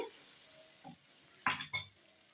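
Chicken macaroni sauce being mixed in a pan, with a faint sizzle throughout and two short, louder scraping stirs near the end.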